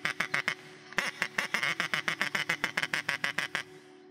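A wooden duck call with silicone rings imitates contented duck chatter of landed ducks, rapid rhythmic quacks in quick bursts with a brief pause, fairly close and steady.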